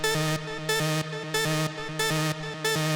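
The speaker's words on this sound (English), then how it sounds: "this is just one saw wave in here" Plain hard techno synth lead from a single saw wave with vibrato, pulsing in evenly spaced stabs of a repeating riff, bright and loud with a steady rhythm.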